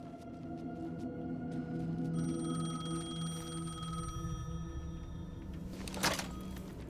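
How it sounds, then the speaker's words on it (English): A payphone rings in the Alan Wake 2 video game, its steady electronic ringing tone sustained over a low ambient drone, with a brief sharp burst near the end. "The payphone was ringing."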